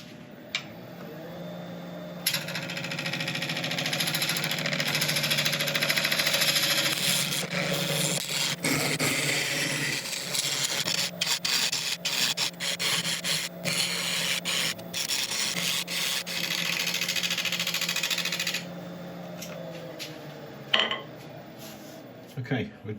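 On a woodturning lathe, a tool flattens and hollows a resin-filled burl, giving a continuous close rubbing, scraping hiss broken by sharp catches and ticks as the cutter meets the spinning surface.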